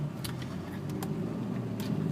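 A 2003 Hyundai Santa Fe on a test ride after a VSS replacement and throttle body and mass airflow sensor cleaning, with a steady low engine and road rumble inside the cabin and a few faint clicks.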